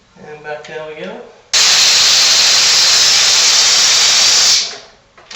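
A brief voice, then a loud continuous hiss of a motorcycle's air suspension lowering for about three seconds before tapering off.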